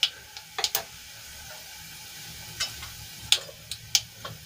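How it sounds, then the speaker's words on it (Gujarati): Mustard and cumin seeds crackling in hot oil for a kadhi tempering: sharp, scattered pops and ticks at an irregular rhythm over a quiet background hiss, with no talking. "રાઈ સરસ રીતે ફૂટી જાય એટલે એમાં અડધી ચમચી જેટલું જીરું એડ કરીશું"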